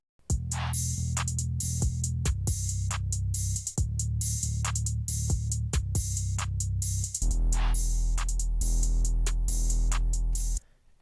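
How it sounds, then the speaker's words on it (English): A punchy programmed drum pattern with deep booming kicks and crisp hits in a steady rhythm, loud and alone. "So these are what the drums sound like."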